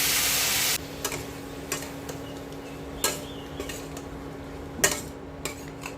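Vegetables for Bengali shukto are stirred in a pan, a metal spoon scraping and clinking against it in scattered soft knocks over a quiet background hum, after a brief louder rush at the start.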